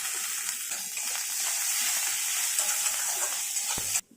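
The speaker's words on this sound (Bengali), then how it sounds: "পেঁয়াজটা মোটামুটি ভাজা হয়ে গেছে" Onions fry and are stirred in a pan, a loud continuous sizzle with light scraping, ending abruptly after about four seconds.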